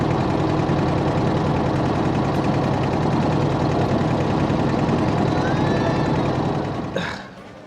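Tourist boat's engine running at Mukutmanipur Dam, a loud, steady close-up drone with a rough throbbing rumble that holds constant and then drops away abruptly near the end.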